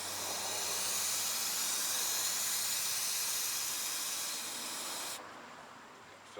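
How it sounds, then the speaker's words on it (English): Brake cleaner sprays in a continuous loud, breathy hiss into a bottle for about five seconds, then cuts off abruptly, leaving a quieter tail and a final bump. "Take that, fill this up with some brake cleaner,"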